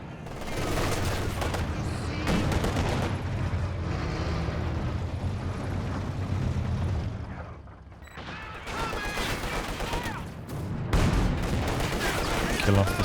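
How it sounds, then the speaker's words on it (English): A heavy mortar barrage in the World War II strategy game Company of Heroes 2, on the winter map Frost: continuous loud explosions and crackling gunfire pile up, thin out briefly, then surge back. "Heavy mortar coming down over here now as well"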